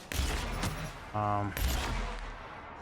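Gunshots from a weapon in The Outer Worlds go off in a few sharp, separate bursts among game noise, with someone talking over part of it.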